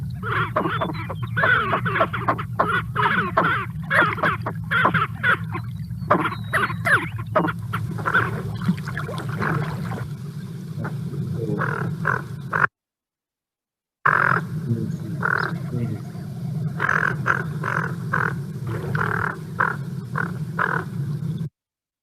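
A lesser scaup duck gives repeated rough, croaking calls in quick series, fairly close, with a steady low background hum and a brief gap of silence midway.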